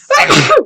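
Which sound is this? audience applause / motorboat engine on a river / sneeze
sneeze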